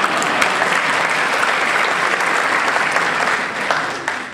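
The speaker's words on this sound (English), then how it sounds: "let's have applause here." Applause from an audience at an iftar dinner, dense steady clapping throughout that thins slightly near the end.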